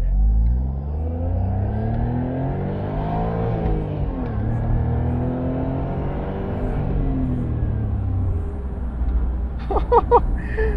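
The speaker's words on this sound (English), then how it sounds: "traffic lights have made us stop. We'll have to accelerate again." A Suzuki Cappuccino sports car engine revs up through rising gears from a stop at traffic lights, its pitch climbing, dipping at a shift, then climbing again; loud and close, steady without talk.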